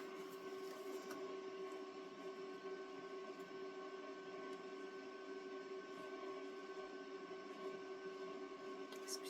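A small electric fan hums steadily in a quiet room, a faint continuous drone with a constant tonal whine and no speech over it.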